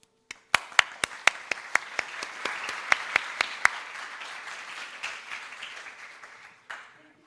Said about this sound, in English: So please, let's welcome Dr. Dilek with our applause.